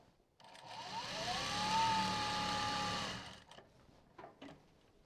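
A sewing machine hums steadily for about three seconds while stitching the side of a zip pocket, starting and stopping cleanly, followed by a few soft handling taps close by.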